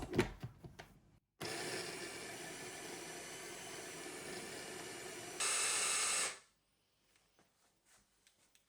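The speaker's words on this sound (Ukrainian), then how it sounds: "І перебиваю все це в блендері ще раз" An electric blender starts abruptly and whirs at a steady pitch while blending meat with egg yolk, then rises louder for about a second before cutting off, with faint knocks before and after.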